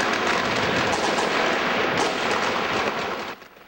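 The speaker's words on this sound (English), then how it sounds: "A demonstration that was broken up by gunfire." Dense, continuous gunfire at a street demonstration in Baghdad, a loud roaring wash of overlapping shots that fills the whole stretch before easing off near the end, with no talking.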